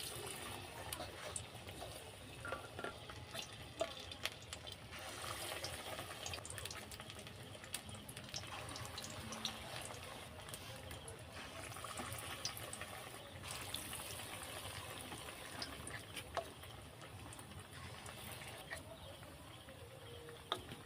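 Cauliflower fritters dipped in gram-flour batter fry in hot oil, a steady, hissing bubble that stays even and fairly soft throughout, with no speech over it.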